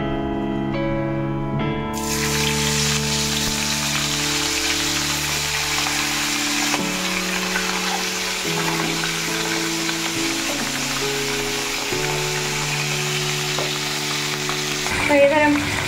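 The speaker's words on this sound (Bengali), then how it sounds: "তো চলুন মাছগুলো একটু ভেজে নিই" Pomfret fish fry in white oil in a wok, sizzling loudly and steadily for the whole stretch beneath a constant hum, with a brief clatter near the end.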